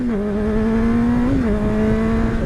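A motorcycle engine drones loudly and steadily close by, its pitch dipping briefly at each gear shift and then settling back.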